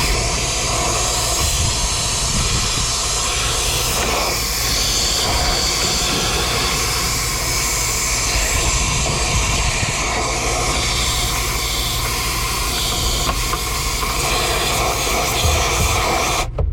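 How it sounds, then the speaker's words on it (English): Compressed air blasting through an air conditioner during an AC clean-out, a loud continuous rushing hiss that holds steady throughout with no talk. "That's why it's important to have an air compressor that does a lot of volume. You need a lot of air to do this."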